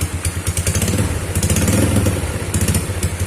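A Honda Supra motorcycle with a stroked-up engine runs loud and close, its busy throbbing idle rising into several sharp revs and easing back, with mechanical clatter beneath and no talk.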